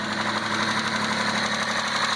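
An Alfa Romeo Giulia Quadrifoglio engine idles steadily just after starting, a constant low rumble and faint mechanical ticking, close and continuous with no speech.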